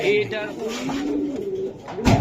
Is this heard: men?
no